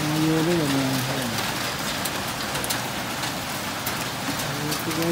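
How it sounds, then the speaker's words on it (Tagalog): Heavy rain mixed with falling hail hisses steadily and loud throughout, with a voice speaking briefly at the start and end. "Kasi nakakaulan, tapos may kasamang yelo pa."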